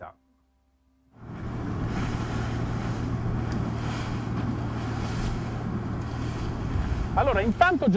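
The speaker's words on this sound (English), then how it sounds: "We've got a wind between 17 and 18 knots, up to about 27 to 28, and reaching points of 30 in real time" Wind buffets a Salona 44 sailing yacht at sea, a steady roaring rush of air and water hiss with a low constant drone, after a second of near silence at the start, and a voice breaks in briefly near the end.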